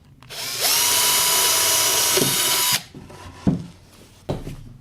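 Power drill boring a hole through the centre of a marked spot for a router installation, a loud steady high whine lasting about two seconds, followed by a few quieter knocks and handling sounds.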